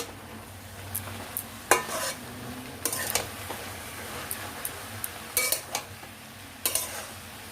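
A spatula scrapes and clinks against a pan while stirring softened beto shak greens, with irregular sharp knocks over a faint sizzle and no voices.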